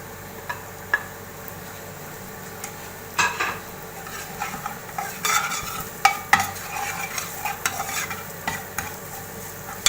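Onions and spices stirred and frying in oil for an aloo chana samosa filling: a spoon scrapes and clatters against the pan in irregular strokes over a constant low sizzle, close by.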